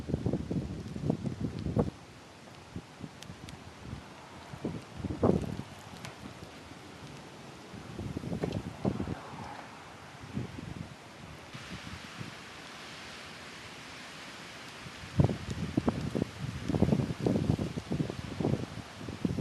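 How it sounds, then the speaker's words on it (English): Strong gusting wind during a blizzard on a college campus, buffeting the microphone in loud irregular bursts with quieter lulls of steady blowing in between. "This should give you an idea of how windy it is out."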